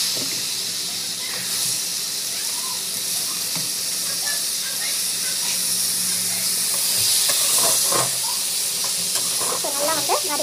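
Raw banana sautéing in a hot pan gives a steady, close sizzle and hiss, with occasional scrapes of stirring and faint background sounds throughout.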